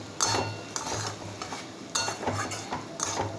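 Fried potato pieces are stirred into masoor dal with ginger, onion and garlic, a spoon scraping and clinking against the pot in several quiet, rhythmic strokes over a soft background sizzle.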